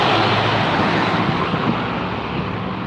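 Loud, steady road noise heard from inside a moving vehicle in traffic, a broad continuous rumble and hiss that eases slightly toward the end, with no talking.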